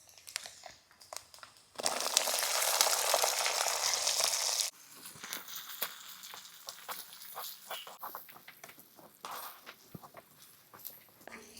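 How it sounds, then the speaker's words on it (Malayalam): Shallots and onions sizzle with coconut in a pan over a wood-fire hearth, a loud dense frying hiss bursting in when they are added, then settling into softer crackling and stirring scrapes. "ഇനി നമുക്ക് തയ്യാറാക്കി വെച്ചേക്കുന്ന കൊച്ചുള്ളിയും സവാളയും കൂടെ ചേർക്കാം."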